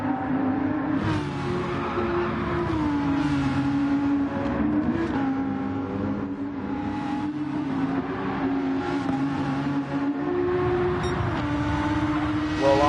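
Race cars in Gran Turismo 7 during a one-hour GT3 endurance race at Road Atlanta, engines droning steadily and continuously with rising and falling pitch as the cars push into a corner, a commentator speaking over them.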